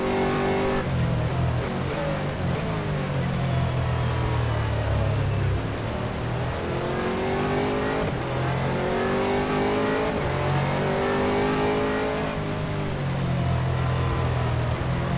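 Race cars in the rFactor sim racing game, an Aston Martin GT3 at Sepang with faster LMP3 prototypes closing behind, roar loudly and continuously as engine notes rise and fall through gear changes.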